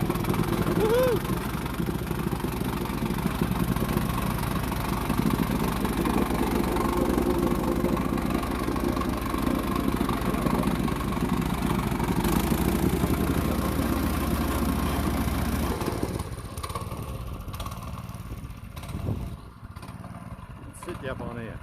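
A small engine runs at idle without the choke, its steady low drone lasting about sixteen seconds before it cuts out, with some talk over it and quieter handling noises afterward.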